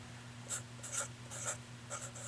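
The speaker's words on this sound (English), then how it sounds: "So let's write that down on the paper here." Pen strokes scratching across paper in a quiet room, four or five short bursts in an uneven rhythm, close and fairly soft over a steady low electrical hum.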